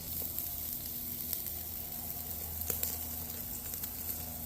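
Wagyu steak sears over a kettle grill, its rendering fat crackling into a steady, dense sizzle with scattered pops, continuous and fairly close, with no voices.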